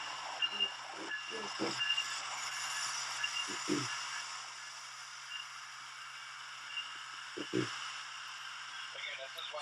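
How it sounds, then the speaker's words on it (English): An Amtrak passenger train passes with a continuous, fairly faint rushing hiss of rail noise, while brief voices break in over it now and then. "this is the train with Amtrak 75"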